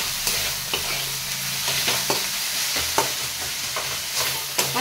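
Chili powder and salt sautéing with tomato and onion in a hot pan. A loud, continuous sizzle is punctuated by regular scraping stirs roughly every second, with no talking.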